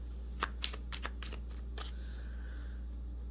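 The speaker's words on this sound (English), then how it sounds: "Just make sure I get a good shuffle in there." Tarot cards riffled and shuffled in several quick bursts, close and crisp over a steady low hum, then a softer settling rustle.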